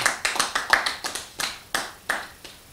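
A few people clapping at a small home gathering, sparse, distinct handclaps in an uneven rhythm, close and fairly loud, fading out after a couple of seconds.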